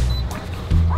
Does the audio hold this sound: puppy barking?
yes